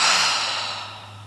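A single quick, breathy exhale through parted lips during a simple breathing exercise, close and clear, starting loud and fading gradually over about a second.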